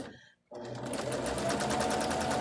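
A sewing machine stitches quilt block pieces in a steady, fast mechanical chatter, starting after a short pause and running continuously up close, with no talking over it.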